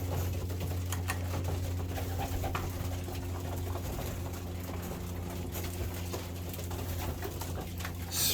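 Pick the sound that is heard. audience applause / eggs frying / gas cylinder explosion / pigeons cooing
pigeons cooing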